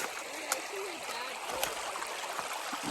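A river runs along a desert thru-hiking trail, a steady broadband rush of flowing water with faint splashes.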